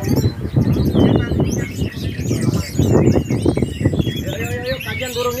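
Songbirds chirping and trilling at a bird song contest in Buleleng, their calls heard under a loud announcer and crowd chatter in a busy outdoor setting.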